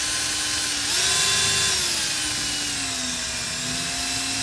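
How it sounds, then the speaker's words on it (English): A power drill whines steadily while boring holes into a car body to mount a mirror at a body shop, its pitch dipping and rising slightly as the bit loads and frees up. "So this is how far in I'm going to drill these holes so that they align with the mirror."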